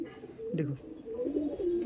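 A male white Madrasi pigeon coos repeatedly up close, with low throaty rolling calls in two bursts. Someone speaks briefly over the cooing.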